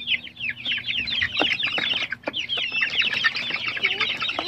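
Newly hatched pure-bred chicks peep in rapid, high chirps, many overlapping birds close by in a continuous busy chorus, with occasional soft knocks and rustles beneath.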